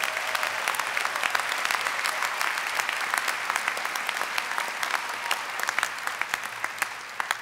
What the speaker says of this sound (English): Let's have a round of applause for all the NYU Wagner students who won an award